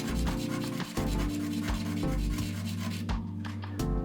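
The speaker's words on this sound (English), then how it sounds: "White LEDs will be glued to the sides of the acrylic, so their heads need to be sanded down too." LED heads and acrylic being sanded by hand, a steady continuous rubbing and rasping in close repeated strokes, loud and alone with no talking.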